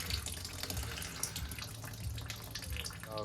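Water squirted from a 100ml syringe through a part of an Ideal Icos boiler being stripped and cleaned, a steady splashing, running flow lasting the whole moment at close range with no talk.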